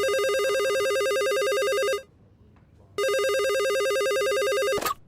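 A telephone rings loudly and close with an electronic warbling tone, sounding twice with a short silent gap between the two rings.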